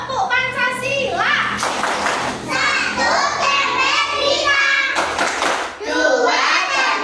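Children perform the Tepuk Pancasila clapping chant as a group, their voices rising and falling in a steady rhythm with crisp hand claps between lines, loud and close throughout.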